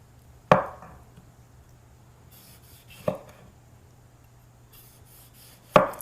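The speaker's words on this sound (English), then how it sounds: "let's slice our tomato" A knife slicing a tomato on a board: three separate crisp cuts, each ending in a sharp tap, spaced a couple of seconds apart against a quiet low hum.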